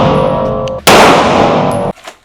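A gunshot from a gun in a video game: one loud, abrupt blast that holds for about a second and then cuts off sharply, heard alone with no talking.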